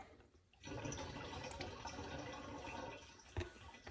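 Steady splashing and trickling of fluid draining and dripping from a Honda Civic, continuous and fairly close, with a brief louder splash near the end.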